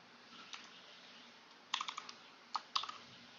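Someone types on a computer keyboard, producing quiet, irregular clusters of key clicks over faint room hiss, with no talking.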